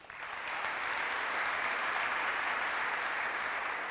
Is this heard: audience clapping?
yes